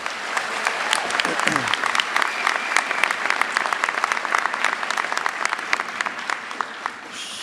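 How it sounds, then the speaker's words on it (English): Applause from a seated crowd at a medical school class day ceremony, following a bagpipe performance, fills the room as a dense, even clatter of many hands, sustained and steady, with a brief low voice early on. "How about a round of applause for our bagpiper, Kate McKennis?"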